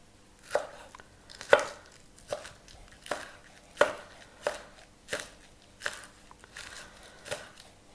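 Knife chopping the green part of a vegetable into 5 mm pieces for kimchi, steady close thuds on a cutting board at an even, unhurried pace.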